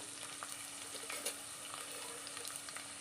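Small onions fry gently in a pan with a faint, even sizzle and occasional soft stirring. No one speaks.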